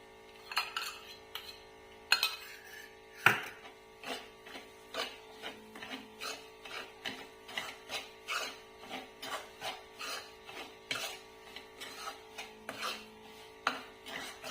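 A spoon scrapes rhythmically through roasting wheat flour and ghee in a pan, a regular, close run of soft rasping strokes with a few sharper knocks against the metal early on.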